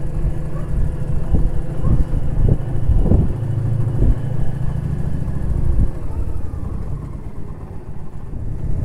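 Steady engine drone of a GS motorcycle on the move, rumbling continuously with a low hum and some wind noise, no clear talk.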